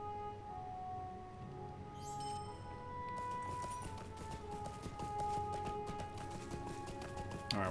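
Horse hooves clip-clop at a steady pace in a medieval video game set at the Battle of Hastings, 1066, running continuously under layered game music and ambient tones, moderately loud and close.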